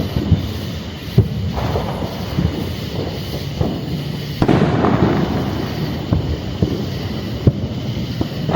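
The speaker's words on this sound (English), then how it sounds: "Fireworks over by the park, I guess." Fireworks bursting over a park during Fourth of July celebrations, a steady run of booms and crackles at middle distance with sharp louder reports scattered throughout, carried over faint wind.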